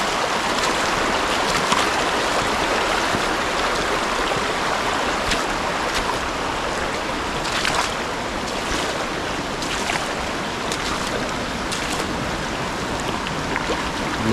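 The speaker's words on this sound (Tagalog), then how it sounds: "Malakas yung tubig ngayon mga kaprobinsya, oh" A strong, fast-flowing stream in the countryside rushes steadily and loudly, a dense unbroken roar of water with occasional splashes close to the microphone.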